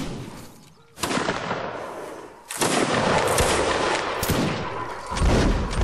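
Soldiers in lines fire volleys of gunfire, a sharp loud crackling burst near one second, then a heavier rolling volley from two and a half seconds on, with another surge near the end, no talk.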